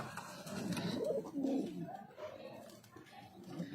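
A young male Saharanpuri kaldum pigeon gives low, throaty coos and rumbling calls up close, with some faint background noise around it.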